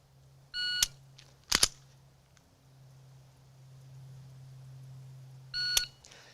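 Electronic shot timer beeps sharply twice during an outdoor pistol trigger press drill, with a loud gunshot crack between the beeps and a low steady hum underneath.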